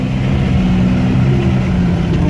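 A Willys off-road car drives in rear-wheel drive, its engine giving a steady low drone that stays loud and continuous throughout.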